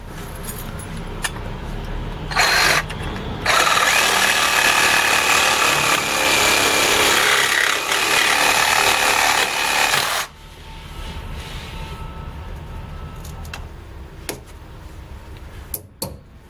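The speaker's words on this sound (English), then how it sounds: "get my Sawzall and just trim that bushing down real quick" Sawzall reciprocating saw trimming down a rubber sway bar bushing on a Jeep sway bar disconnect, a loud sustained buzzing cut of several seconds after a brief start burst, then quieter handling noise.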